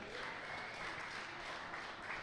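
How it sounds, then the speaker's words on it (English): A crowd at a combat league media day applauds steadily, a dense, even wash of clapping held at constant level throughout. "so everybody give a round of applause to Chad and Avocare."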